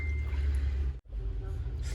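Water is poured into a cup of Hershey's Cookies and Cream milk tea in a cafe setting, a steady close splashing flow that cuts out briefly halfway and then resumes.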